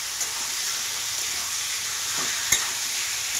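Lightly frying chicken sizzles steadily in a pan while being stirred, with faint scraping and a sharp utensil tap near the end, close up and without any voices.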